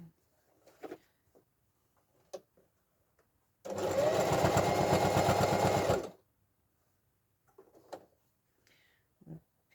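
A sewing machine stitches a letterbox pocket in one steady burst of about two and a half seconds, close and fairly loud, with soft handling noises before and after.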